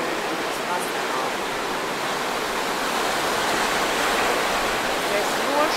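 Wild surf pounds a beach on La Digue in the Seychelles, a loud continuous roar of breaking waves and rushing water heard close up, steady throughout with no voices.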